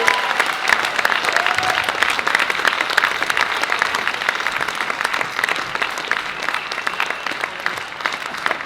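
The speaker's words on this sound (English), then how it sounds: "a big round of applause there for Gordon and Lucy Leash" An audience at a political candidate adoption meeting applauds in a continuous, crackling wash of many hands, steady and moderately loud throughout, with a few voices faintly underneath.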